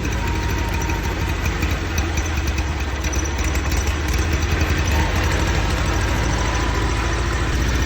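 A swapped car engine runs steadily at idle, a continuous low rumble with a fairly even rhythm, loud and close with no pauses.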